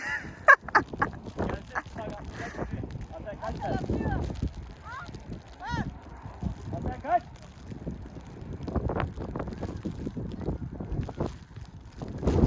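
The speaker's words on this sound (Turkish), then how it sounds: "çok rüzgar esiyor" Strong wind on snowy Spil Mountain in Manisa, Turkey buffets and rumbles steadily across the microphone, with faint voices now and then beneath the gusts.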